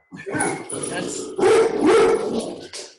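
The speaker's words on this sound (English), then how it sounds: "That sounds like a big dog." A large chocolate Labrador barks repeatedly nearby, several loud, deep woofs in quick succession over roughly three seconds, overlapping with voices.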